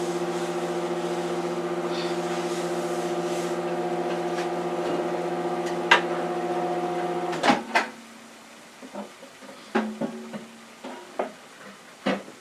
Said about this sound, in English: I put it on for another minute in the microwave